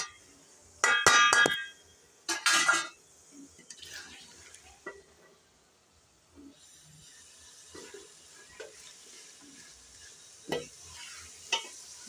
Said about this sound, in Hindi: अदरक लहसुन भुन चुका है, अब हम ये मसाले डाल देंगे।